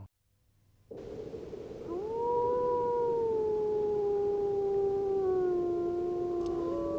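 A long, rising then slowly falling wolf howl in Yellowstone, soon joined by a second voice, with the sustained calls carrying clearly over steady background noise.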